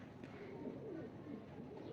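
Pet pigeons of a fancy breed, including a black-faced Rampuri bird, cooing softly in a continuous low murmur that stays faint and steady throughout.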